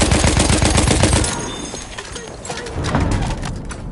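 Rapid machine gun fire in a war video game rattles in a fast, loud burst at the start, then gives way to quieter battlefield noise and scattered distant shots.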